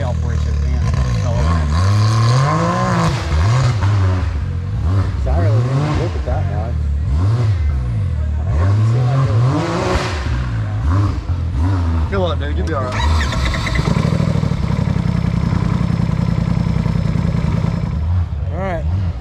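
Off-road racing buggies at an off-road park race finals, engines revving and rising in pitch as they accelerate, loud and continuous under a commentator's voice.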